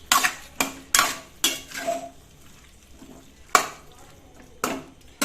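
Chicken liver gaasi ingredients stirred in a metal pan, with a run of sharp scraping, clattering strokes of the spoon at an uneven rhythm, close and fairly loud, and short quiet gaps between strokes.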